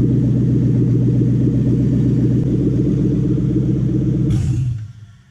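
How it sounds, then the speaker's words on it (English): A Toyota Mk3 Supra with a swapped 1UZ-FE VVTi V8 idling with no exhaust fitted, a loud, close, steady low throbbing burble that holds evenly before cutting off and fading out at the end. "And it actually just sits and idles beautifully."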